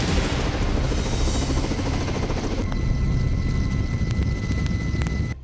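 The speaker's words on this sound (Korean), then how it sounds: "헬기 하강풍에 의해서 하강 속도가 점점 빨라지는 경우가 있습니다" Loud, continuous rotor roar and rushing downwash from a forest aviation helicopter hovering during rescue descent training, steady and close with no talk.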